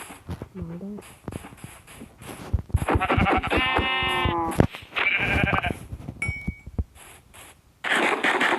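Sheep in Minecraft give several loud, wavering bleats in close succession, with short pauses and faint shuffling between the calls.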